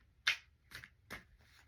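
Cards are pulled from a Goddess Tarot deck in four short, papery swipes spaced about half a second apart, close and soft, with no voices.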